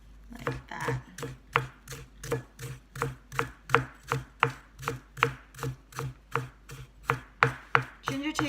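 Fresh ginger being shredded with a knife on a cutting board, about twenty crisp, evenly spaced chops in a quick steady rhythm, close and clear with no talking.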